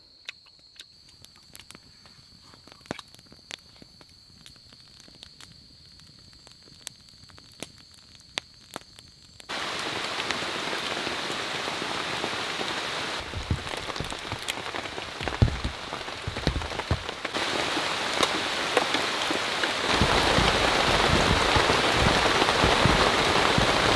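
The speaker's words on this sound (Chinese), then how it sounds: "一大早上就在下雨" Rain on a deserted island: light scattered drips at first, then a sudden switch to steady, dense rainfall hissing on surfaces that grows heavier toward the end, with no voices.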